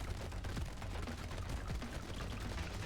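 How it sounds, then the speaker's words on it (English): Rapid, dense explosions and gunfire-like blasts from the Brotato video game crackle continuously and evenly throughout, a busy barrage of small bursts with no pauses. "those explosions are doing some real nice damage"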